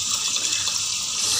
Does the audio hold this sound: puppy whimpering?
no